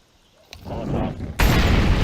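A Molotov cocktail bursts in a video game: a soft thump, then a rising rumble that breaks into a loud, close, broadband roar of flame that keeps going to the end, with no talking over it.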